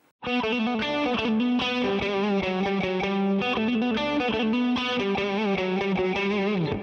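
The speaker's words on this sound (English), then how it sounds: "you have one of the most recognizable riffs in heavy metal history" A heavily distorted electric guitar plays a famous chugging heavy metal riff, loud and continuous, with rhythmic palm-muted pulses throughout.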